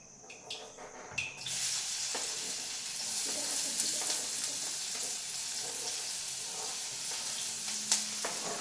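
Chicken and onions frying in ghee for a chicken pepper ghee roast give a loud, steady sizzle and crackle that starts after a brief quieter moment and continues throughout.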